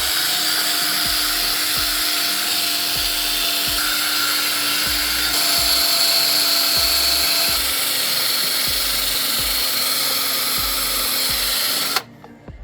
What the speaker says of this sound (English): We're just going to use a regular drill and some aluminum polish and give it a shot,